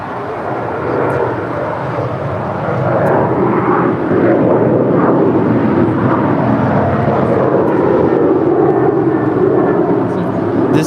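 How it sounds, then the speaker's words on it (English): A seven-year-old United Airlines Boeing 737-900ER takes off from LAX runway 25 Right, its jet engines swelling into a loud, sustained roar that holds steady, heard from nearby as people talk underneath. "This is a 7-year-old Boeing 737-900 ER with United Airlines departing to Houston, flight 1535."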